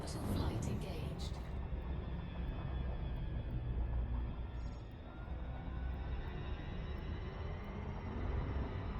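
A spaceship in orbital flight in the Elite Dangerous space game gives off a steady low engine rumble and hum, with a brief bright burst of interface tones at the start and no talking.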